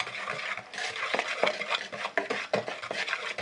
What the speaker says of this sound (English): Throw that together with a whisk.